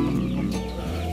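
Indio Gigante chickens on a chicken farm with various breeds, a brief close clucking sound over a steady low hum of farm background noise.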